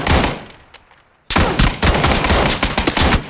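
Loud, dense automatic gunfire in the video game PUBG, with a sustained burst, a brief gap, then another long rapid volley up close, no talking.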